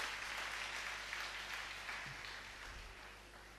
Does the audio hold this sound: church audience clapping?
yes